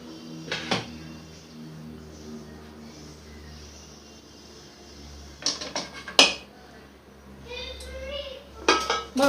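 Metal cooking pots clink and clatter in a few sharp bursts while making a no-oven Oreo biscuit cake, with quieter handling noises between them and a low hum underneath.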